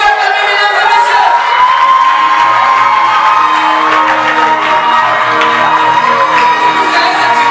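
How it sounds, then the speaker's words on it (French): Crowd cheering and whooping at a civil wedding ceremony in Gabon, a loud, sustained roar of many voices with shouts and calls rising throughout, while a voice speaks over it. "Est-ce que vous pouvez acclamer, mesdames et messieurs?"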